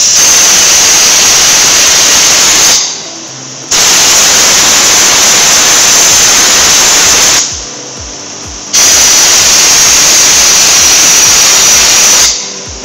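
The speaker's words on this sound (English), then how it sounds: "trigger the spray gun and the blow gun directed through the fluid passageway to expel the solution" Compressed air blasts loudly through an E800A spray gun and blow gun during cleaning, forming three long, harsh bursts of rushing hiss, each several seconds long and separated by brief pauses.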